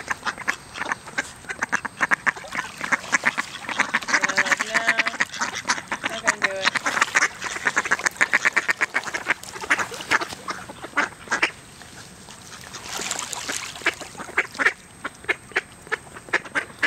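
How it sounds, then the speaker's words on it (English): Ducks in a park being fed: a dense flock quacking continuously nearby, with overlapping rapid calls and clustered bursts of loud quacks throughout, some honking mixed in. "He's a big boy, a big boy duck."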